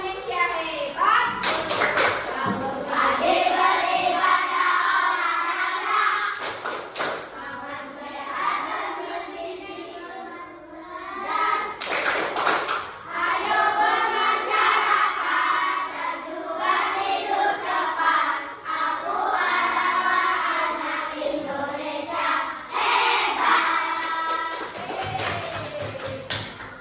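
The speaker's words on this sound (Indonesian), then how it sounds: "sekarang tepuk tujuh kebiasaan anak Indonesia hebat" A class of Indonesian schoolchildren performs a rhythmic clapping chant, sharp group claps in regular patterns punctuating their loud sung speech, repeated in several rounds close by.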